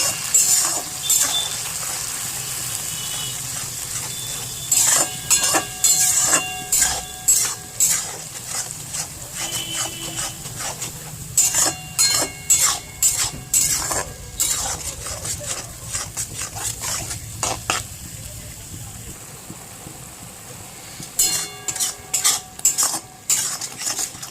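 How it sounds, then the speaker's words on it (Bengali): Onions fry in a pan for a Bengali chicken kosha, a soft steady sizzle running under frequent loud scraping and clinking of a metal spatula against the pan. "পেঁয়াজগুলো খানিকটা ভাজলাম, এটা তো ভাজতে একটু সময় লাগবে।"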